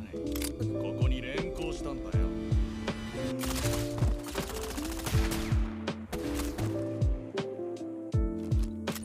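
A gunfight between two rival communities in the Pacific Rim series, with rapid bursts of gunfire and sharp cracks clattering over a driving soundtrack, dense and continuous throughout.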